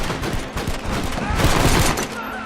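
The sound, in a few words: gunfire in a shootout, Red Dead Redemption video game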